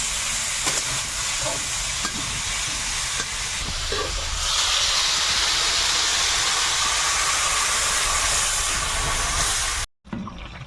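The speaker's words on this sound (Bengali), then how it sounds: "আলু বেগুনটা ভালো করে ভেজে নিয়েছি এবারে জল দিয়ে দেবো" Water poured into a hot pan of fried potato and eggplant over a wood fire, giving a loud, steady steam hiss and sizzle that swells partway through and holds, then cuts out briefly near the end.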